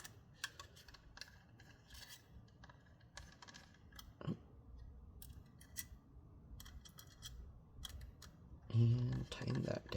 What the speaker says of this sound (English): Get that screw in. Okay, tighten that in place.